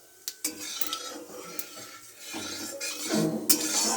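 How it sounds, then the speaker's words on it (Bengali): A metal spoon clinks and scrapes against a pan as five-spice seeds are stirred in hot oil. Several light clinks at first, with a soft sizzle building toward the end. "এই 5 ফোঁটনটা দিয়ে দেবো কড়াতে, দিয়ে একটু নেড়ে নেব।"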